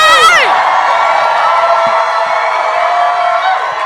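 A small group of people cheer and whoop together on cue, starting with a sharp rising shout that settles into a sustained loud chorus of voices.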